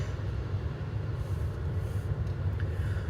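A train rumbles steadily in a video game, a dense low-frequency roar with continuous rolling noise, loud and constant throughout, with no speech over it.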